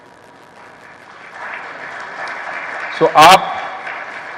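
Audience applause at a political gathering swells from about a second and a half in, a steady broadband clatter of many hands that runs under someone speaking, with a brief louder burst near the three-second mark.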